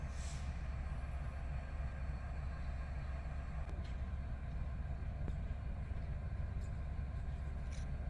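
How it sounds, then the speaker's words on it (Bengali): A train moves through Parbatipur railway junction in Bangladesh, a steady low rumble of locomotive and rail cars with faint metallic clicks, continuous and moderately distant, with no talk over it. "ওই যে যে ইঞ্জিনটা গেল সোজা দিকে"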